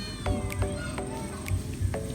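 A cat meows in short repeated calls at a market in Bulacan, several mews spaced about every half second over steady crowd noise and low background chatter.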